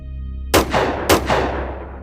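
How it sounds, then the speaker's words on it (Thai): Two loud gunshots ring out about half a second apart, each sharp crack followed by a rolling echo that fades away. "ระเบิดกระสุนใส่ทันที"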